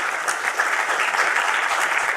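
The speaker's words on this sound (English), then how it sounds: "So I would like to give him a round of applause." Sustained audience applause at an Asteroid Day space lecture, honouring Mark, the project documentalist: a dense, even wash of many hands clapping for the whole stretch without letting up.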